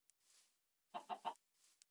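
A Minecraft chicken gives three quick clucks in a row, clear and close, between soft breathy hiss and a couple of small clicks.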